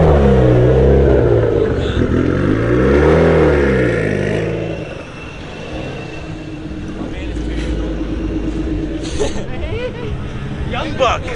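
A car engine revs at a car show, its pitch sweeping up and down several times before settling to a rumbling idle, under crowd chatter and nearby talking.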